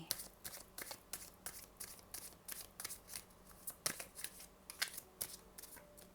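Angel oracle cards are shuffled by hand in quick repeated riffling bursts, soft and close, with crisp papery flicks and no talking.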